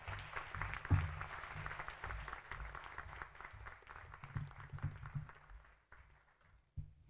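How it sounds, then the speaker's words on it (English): An audience at a 2016 high school honors program claps for students' accomplishments, a faint, sustained patter that thins out and fades toward the end with a few stray claps. "Let's give these folks a round of applause for their accomplishment."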